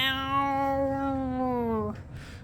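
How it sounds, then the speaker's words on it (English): A cat lets out one long, drawn-out meow close by, steady and tonal, then stops abruptly with only faint room noise after. "kitty meow"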